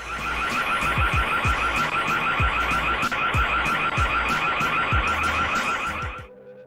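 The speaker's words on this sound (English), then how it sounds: "The car alarm goes off and they run as fast as they can." A car alarm goes off near a parked car, blaring a loud, continuous pulsing electronic wail that repeats steadily for several seconds before cutting off abruptly.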